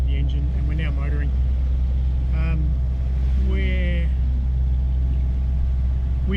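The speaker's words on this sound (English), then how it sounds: "We started the engine and we're now motoring." A sailboat's engine motors steadily as a continuous low drone throughout, with people talking briefly over it.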